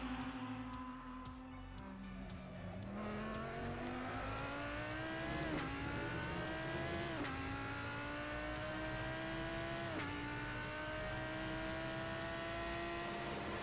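GT3 race car engine in Assetto Corsa at Spa-Francorchamps, revving hard in fourth gear against the rev limiter, loud and continuous with rising pitch sweeps and brief dips at gear changes, no talking.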